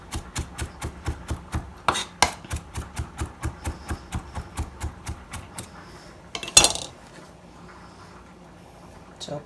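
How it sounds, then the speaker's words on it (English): A knife chops ginger on a board in a brisk, even run of about twenty close, crisp strokes, followed by a louder clatter and then quiet. "Now I'm chopping enough ginger here for both the meat and my cucumbers"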